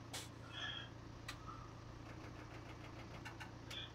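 A tractor engine in the video game Farming Simulator 2017 runs at a low, steady idle with a faint knocking vibration, joined by a few brief high chirps and clicks.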